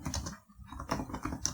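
Typing on a computer keyboard while writing a code comment, a quick run of close, crisp key clicks with a brief pause partway through, no voices.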